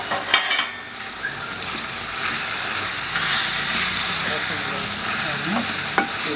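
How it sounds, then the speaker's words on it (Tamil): Mint stirred into a frying tomato rice mixture in a pan for tomato pongal, with loud steady sizzling and hiss plus a few scraping stirs, close and without talk. "இப்போது அப்படியே ஓடும்போது புதினாவும் அப்படியே போட்டு கிளறி விட்டுறோம்."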